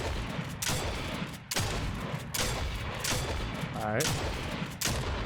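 Gunfire in the Fortnite video game, with several sharp shots spaced about a second apart, loud and close, while someone talks briefly over them.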